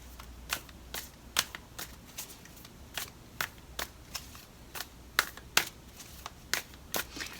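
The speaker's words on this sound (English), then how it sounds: "I'll pull some oracle cards for you, Taurus." Oracle cards being shuffled by hand in a quiet room, giving a run of crisp, irregular riffling snaps and flicks, close and fairly loud, with no voices.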